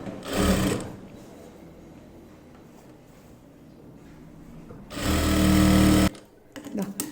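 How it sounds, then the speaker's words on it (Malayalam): A sewing machine stitches scrap cloth for a ladies' zippered handbag in two short, loud, close bursts of rapid whirring, with quieter handling sounds in the gap between them. "ഈ തുണി ഇതുപോലെ ഉള്ളിലേക്ക് വെച്ചിട്ട് കറക്റ്റ് ഈ ഭാഗത്ത് ഇതുപോലെ അങ്ങോട്ട് സ്റ്റിച്ച് ചെയ്ത് കൊടുക്കണം"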